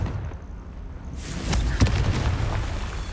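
A Confringo fire spell explodes in the video game Hogwarts Legacy, a single deep booming blast followed by a rumbling tail, loud and heavy with no talk over it.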